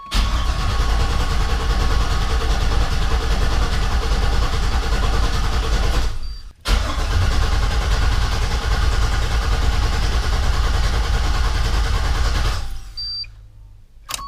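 An LS-swapped 1988 Chevrolet Suburban engine churns loudly and steadily up close for about six seconds. After a brief break, a second long burst of the same engine sound follows. It then drops away near the end.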